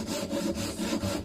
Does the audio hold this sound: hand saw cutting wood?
yes